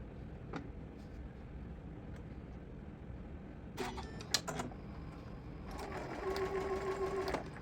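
A sewing machine runs in short quick bursts of rapid clattering stitches while sewing a sling pouch seam, fairly close and moderately loud, following a quiet stretch with a few light clicks.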